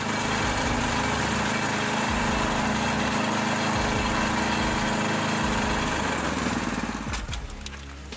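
A homemade firewood splitter machine runs with a loud, steady engine drone, its tone shifting and fading slightly near the end, with no one talking.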